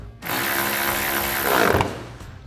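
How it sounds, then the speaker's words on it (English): A 10mm socket on a ratchet or driver tightens a bumper bolt on a Toyota 4Runner, a steady close mechanical whir lasting about two seconds, then stopping. "So we'll thread that in, tighten it down with a 10mm socket."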